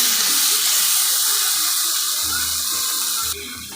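Water from a rinsed spice container pours into a cooking pot of fish curry with greens and potato, a close, steady rushing splash that shifts in tone as the pour continues, then cuts off near the end.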